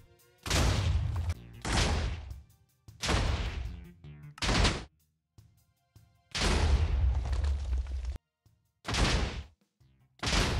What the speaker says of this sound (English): here's a quick compilation of all my explosions until day came